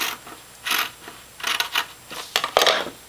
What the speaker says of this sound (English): So I'm going to cut this corner off.